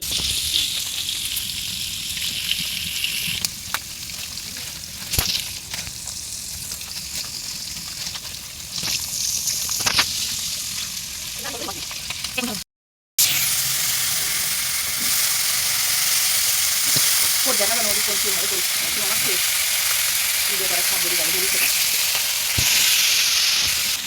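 Oil heats and sizzles in a karahi on a clay stove, a steady bright frying hiss with occasional crackles and soft metallic stirring, broken by a brief dropout midway before the sizzle resumes.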